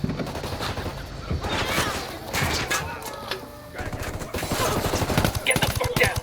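A firefight in Ghost Recon Wildlands: dense volleys of automatic rifle fire and sharp single shots crackle in quick succession, briefly easing before surging again, with voices underneath.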